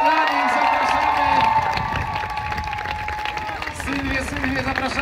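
A festival crowd claps and cheers for the second-place runner at an outdoor running event, with sustained applause, whoops and children's shouts blending together, fairly loud and continuous.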